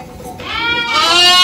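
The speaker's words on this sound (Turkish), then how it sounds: "Bunlar ikizler, üçüzler olan koyunlar." Ewes that have borne twins and triplets bleat on a farm, a wavering, rising call that grows louder and fuller toward the end, heard close and alone.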